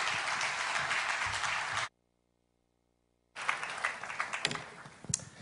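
A church congregation at a revival service claps to welcome the pastor, a dense burst of applause broken by a sudden gap of silence before clapping resumes and gradually thins out.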